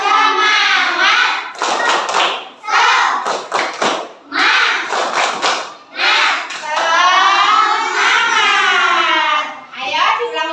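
An Indonesian class of children performs a rhythmic spirit clap, sharp patterned bursts of hand claps interleaved with loud chanting voices, close and energetic, repeating in short phrases.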